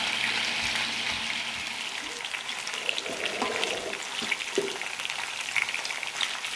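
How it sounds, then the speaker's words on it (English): Swedish meatballs sizzle and crackle steadily in a hot pan, with occasional soft clinks and stirring noises, at a moderate, even level. "after you've done this frying"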